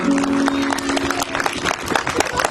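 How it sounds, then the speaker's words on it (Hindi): Applause from an audience at a Republic Day honouring ceremony, scattered hand claps building into a brisk patter after a brief held tone, moderately loud and close. "आप तालियां से तारीफ करेंगे।"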